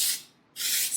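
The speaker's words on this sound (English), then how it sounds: "I am going to use texture spray to make it even bigger." Two bursts of Unite texture spray hiss onto hair close up, split by a short pause.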